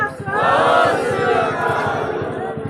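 A crowd at a Kisan Naujwan Sangharsh Committee Punjab rally in Sathiala village chants the slogan zindabad together, a loud, sustained mass of voices rising and holding steady for a few seconds.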